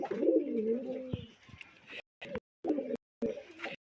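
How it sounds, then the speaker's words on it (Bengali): Big Rajshahi Giribaj pigeons give deep, rolling coos up close, loud at first and then broken into short bursts separated by abrupt silent gaps. "অনেক বড় সাইজ কবুতরগুলা"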